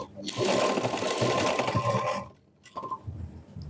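A sewing machine stitches a cut-work blouse from a marked dot to the armhole, a loud steady close-up whir lasting about two seconds, stopping, then a shorter burst of stitching after a pause.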